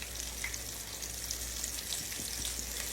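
Chicken smother-frying in a pan on a home stove, giving a steady, quiet sizzle with light crackles and a low background hum, and no voices.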